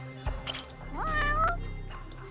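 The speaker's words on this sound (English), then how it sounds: "Found the cat." A cat meows in the video game Judgment: one loud, drawn-out meow that rises and wavers, with a soft thump just before it and low game ambience underneath.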